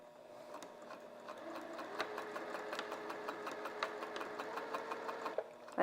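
A sewing machine runs steadily as it stitches across fabric, giving a fast even mechanical whir with regular ticking needle strokes. It stays fairly quiet and close throughout, with no talking.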